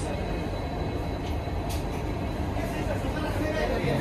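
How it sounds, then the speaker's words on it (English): A train rumbles past in Dimapur, India, with a steady, heavy roar and rattling of rail cars, continuous and fairly close, with faint voices in the background. "There's another train going."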